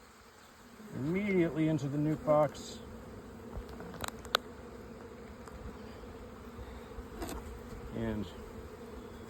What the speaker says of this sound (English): It's got a nice good number of bees on it.